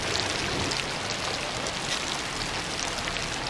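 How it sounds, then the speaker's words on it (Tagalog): Steady, heavy typhoon rain during a flood in Makati hissing evenly across the whole stretch, a dense wash of drops with no voices. "Lumakas na naman yung ulan."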